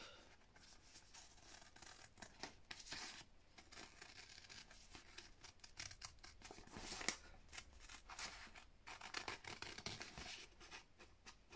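Scissors snip through two layers of thin paper in a steady series of soft, close, crisp cuts with light paper rustling between them, quiet and with no talking.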